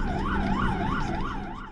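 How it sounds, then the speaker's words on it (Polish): An ambulance siren wails on an emergency run in road traffic. The loud, close two-tone wail sweeps up and down in a steady repeating cycle, with no voices. "Nagraliśmy kilka przejazdów karetki pogotowia w akcji."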